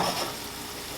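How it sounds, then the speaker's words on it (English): Vegetables sauté in a pan for Jamaican ackee and saltfish, a brief close hiss of frying that softens to an even sizzle, with no voices. "It's good to always saute your veggies."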